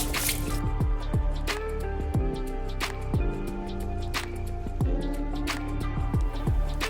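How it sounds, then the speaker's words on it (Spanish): Oysters scrubbed and rinsed under cold running water in a kitchen: repeated wet drips and squishy splashes with a steady trickle beneath, close and fairly loud, no talk. "Escobeteamos muy bien la tierrita. Hay que lavarlos con agua fría."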